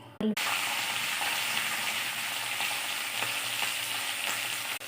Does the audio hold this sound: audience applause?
no